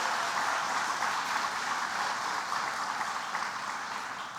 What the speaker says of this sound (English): Let's give a big round of applause to Sonia Sario and all.